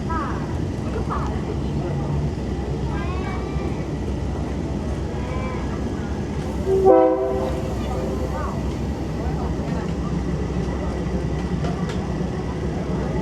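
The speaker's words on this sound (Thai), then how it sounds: "รถไฟกำลังขึ้นเขา" A train climbing a hill rumbles along continuously with low clattering and creaking, and a brief louder clank midway. Faint sounds ride over the steady rolling noise.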